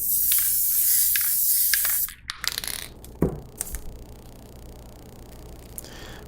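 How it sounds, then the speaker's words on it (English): A can of extra-strong spray glue hisses steadily onto a shoe orthotic for about two seconds, followed by a few soft handling clicks and rustles nearby. "And we'll spray it and then place it on there."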